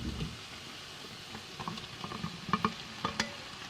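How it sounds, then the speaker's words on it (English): Browned minced beef tipped into a pan of sweated-down vegetables for Bolognese sauce, giving soft crackling sizzle with a few sharper clatters and stirring scrapes, close and fairly quiet, no talk. "we are going to add our browned minced beef"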